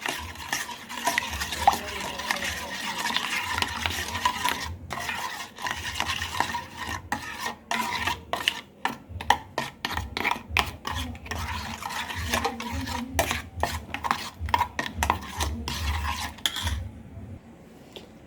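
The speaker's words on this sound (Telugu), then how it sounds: "ఐస్ క్యూబ్స్ని యాడ్ చేసిన తర్వాత మనం ఈ విధంగా కలుపుతూ ఉండాలండి." Homemade butter with added ice cubes is stirred in a pot, producing a continuous scraping, clinking stir with rhythmic strokes and brief pauses, close up and fairly loud, with a low simmering hiss underneath and no talking.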